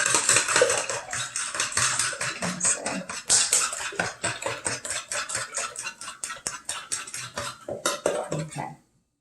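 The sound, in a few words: fork whisking ingredients in a bowl for frittata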